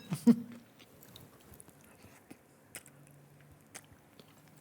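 Shrimp with soba noodles dressed in tahini being bitten and chewed close up, an initial bite followed by quiet, intermittent mouth sounds, with no one talking.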